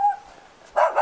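Dogs bark in short, sharp yelps close by, two quick barks separated by a brief quiet gap.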